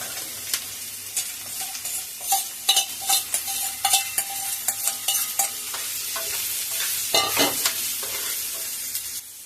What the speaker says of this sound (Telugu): ఇప్పుడు మనం క్యారెట్ ఇంకా సొరకాయని చిన్న చిన్న కట్ చేసుకున్నాం, అది వేసేసుకోండి.